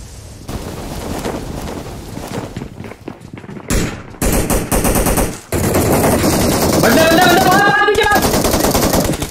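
Video game gun firing in long sustained bursts, loud and close, broken by short pauses, with a voice shouting over the later stretch.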